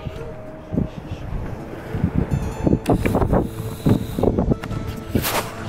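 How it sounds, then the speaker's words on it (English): Gusty wind at the top of a lookout tower at Burg Gräfenstein, Germany, buffets the microphone in uneven bursts, with broad rumbling noise rising and falling throughout. "as you can tell, it's windy up here"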